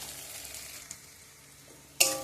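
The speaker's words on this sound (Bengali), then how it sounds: "এইভাবে একটু নেড়ে পেঁয়াজটা ভালো করে ভেজে নেব" Onions fry quietly in a pan with a faint, soft sizzle that runs steadily, ending in a sudden sharp clatter as they are stirred.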